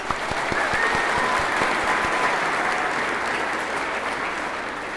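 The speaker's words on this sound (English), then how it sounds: "Let's have one more round of applause for all of our state contest student competitors" A crowd applauds steadily for student competitors at a state history contest awards ceremony, a dense even wash of clapping held at a constant level throughout.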